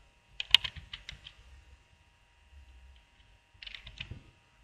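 Computer keyboard keys tapped in two short bursts while a username is entered, clicks close and crisp with a quiet pause between the flurries.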